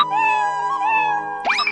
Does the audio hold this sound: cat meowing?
yes